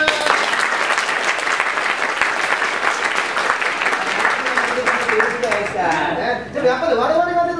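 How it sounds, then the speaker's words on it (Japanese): Audience at a Japanese manzai comedy show applauds on cue, a dense, sustained wave of clapping that carries on loudly, with a voice starting to speak over it near the end as the clapping continues. "お願いします、拍手"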